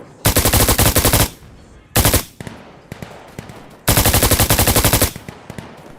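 Bursts of rapid automatic gunfire from a video game, loud and close, in three long volleys separated by brief pauses.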